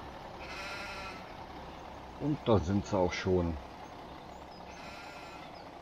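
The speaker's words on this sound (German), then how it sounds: "Laden wir mal die Schafe hier ab." Sheep are unloaded from a truck in the farming game Landwirtschafts-Simulator 17, giving a cluster of four or five loud, close bleats midway over a low engine hum, with someone speaking briefly before them.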